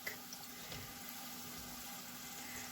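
Pieces of chicken fry in hot oil for a homemade KFC-style dish, producing a faint, even sizzling hiss that carries on steadily throughout.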